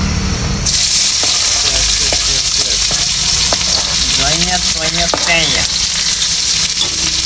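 Oil sizzles loudly and steadily in a pan, onions and bay leaf frying in reused fish-frying oil, with scattered clinks of a utensil stirring against the pan and a person talking faintly underneath.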